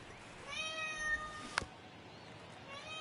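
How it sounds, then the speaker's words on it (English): A hungry house cat meows twice, a drawn-out plaintive call followed by a shorter one, close and fairly clear over a quiet background hiss, with no talking. "I don't know if you can hear that. That's the cat."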